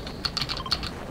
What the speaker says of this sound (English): Listen to the sound of this keyboard.